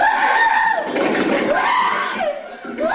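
A family member screams during a courtroom outburst after a life-without-parole sentence is read, a loud, sustained, strained shrieking voice with wavering pitch that rises and falls across the whole stretch amid the commotion.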